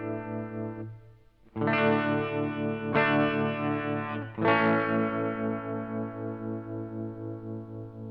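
Sustained guitar chords ring out through a shimmering, pulsing tremolo effect from a MayFly Terrain Deluxe pedal, with two fresh strums partway through swelling into a wash of echoing distortion.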